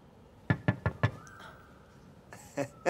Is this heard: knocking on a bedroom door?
yes